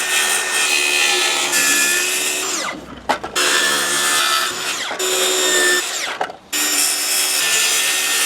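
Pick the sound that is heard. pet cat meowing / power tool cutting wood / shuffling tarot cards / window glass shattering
power tool cutting wood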